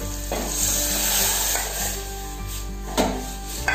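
A horse gram flour mixture is poured into a pan of onions browning in oil, giving a close sizzle with a few stirring scrapes and clatters.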